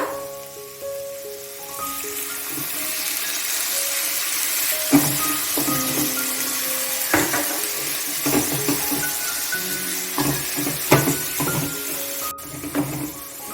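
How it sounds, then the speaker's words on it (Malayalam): Tamarind water poured into a pan of dates pickle sets off a loud, sustained sizzling hiss that continues steadily with scattered pops and crackles. "ഇതിലേക്ക് നമ്മൾ നേരത്തെ എടുത്തു വെച്ചിരിക്കുന്ന പുളിവെള്ളം ആവശ്യത്തിന് മാത്രം ഒഴിച്ചു കൊടുക്കുക"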